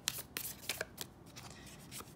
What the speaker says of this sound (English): One more shuffle, I feel.